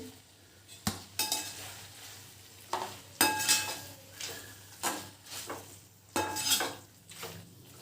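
Soya chilli gets stirred in a pan on the stove, with a spoon scraping and clinking against the metal in separate bursts over a soft sizzle, close up and without talk.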